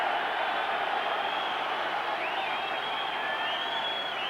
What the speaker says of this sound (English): Roar from the Widnes crowd